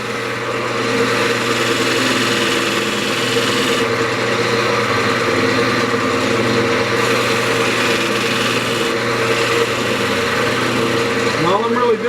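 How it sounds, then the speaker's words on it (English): A woodturning lathe runs steadily while a tool cuts the tenon off a spalted pecan vase, a continuous close motor hum with a faint squeal near the end. "I'm just going to cut that tenon off."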